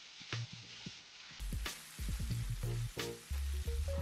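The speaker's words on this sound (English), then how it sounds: "we need to brown about 6 ounces of ground beef so that we end up with 4 ounces of cooked ground beef in the end" Ground beef, about six ounces, browning in a pan gives a soft, intermittent sizzle with faint stirring sounds. It is fairly quiet and broken up, with no voices.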